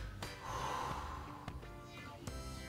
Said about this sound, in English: Couple deep breaths.